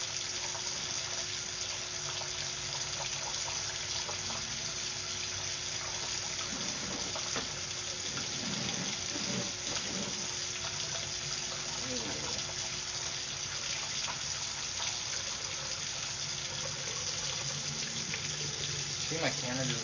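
Steady rushing and sloshing of water running through a drain line, continuous and fairly close, with faint scattered knocks underneath.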